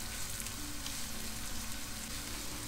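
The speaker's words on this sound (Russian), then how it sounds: "Пока у нас овощи обжариваются" Vegetables fry in heated oil in a hot pan, making a steady, close, dense sizzle with no talking.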